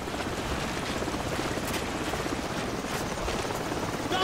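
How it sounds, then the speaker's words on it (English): A helicopter's steady, dense rotor thrum fills the scene in Call of Duty 4, continuous and fairly loud, with a few faint thumps and clicks over the top. "Watch out for the helicopter!"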